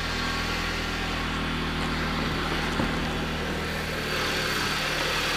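A 2007 Jeep Patriot's 2.4-liter four-cylinder engine idles steadily under the open hood, a smooth, even hum with no talk over it.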